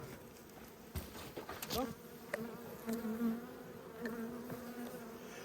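Honey bees buzz around an open hive during a late-winter inspection, a dense droning hum with individual bees whining past up close. Soft handling knocks sound throughout.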